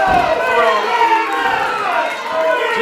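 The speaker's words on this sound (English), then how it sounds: "And listen to this crowd." A dense crowd at an IZW wrestling show roars and cheers without a break after a belly-to-belly throw in the ring. The noise stays loud and full, with shouting voices swelling and dipping throughout.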